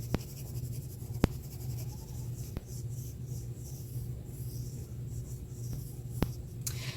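Pencil or crayon colors in a shadow on paper in steady, soft scratchy strokes under a low background hum, with a few sharp taps at intervals and no talking.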